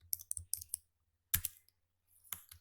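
Computer keyboard keys are pressed in short bursts of crisp clicks, a quick cluster of taps, a pause, then a few more presses, quiet and close with silence between.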